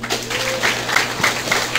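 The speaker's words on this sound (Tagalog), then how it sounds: "Palakpak mo na." An office seminar audience claps in a dense, steady burst of applause from a crowd filling the room, fairly loud throughout the short stretch.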